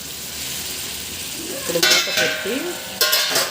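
Eggplant and jackfruit seed curry sizzles steadily in a pan, with a few scrapes and clinks of a stirring spoon against the metal partway through.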